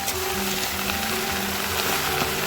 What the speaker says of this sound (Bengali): লবণ দিয়ে ভালো করে নেড়ে নেব